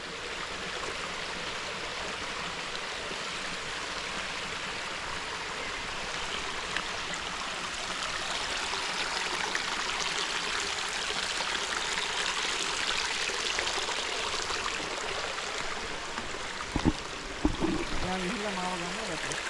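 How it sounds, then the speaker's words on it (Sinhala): A stream rushes steadily and continuously, a broad watery hiss with a few brief knocks near the end. "මෙන්න මේ වගේ ඉන්නේ වතුර පාර ගලාගෙන"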